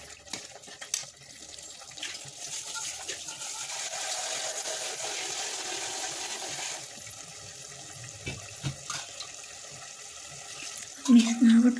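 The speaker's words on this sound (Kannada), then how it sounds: "ಮೂರು ಲೋಟ ಅಕ್ಕಿ ಹಾಕಿ ಮತ್ತು 6 ಲೋಟ ನೀರು ಹಾಕ್ತೀನಿ ನಾನು" Water runs into a pot of rice for chicken pulao, six cups poured over three cups of rice, a steady splashing stream with a voice talking over it.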